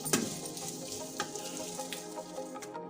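Boiled potatoes fry with radish in a pan, a continuous close hiss of oil with occasional spatula stirs and scrapes, steady throughout with no talking.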